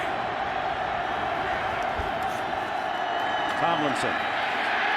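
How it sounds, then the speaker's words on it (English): Football stadium crowd at the 2007 Chargers vs Chiefs game, a dense steady roar of cheering filling the whole stretch. A commentator speaks briefly over it. "Oh, what a crowd."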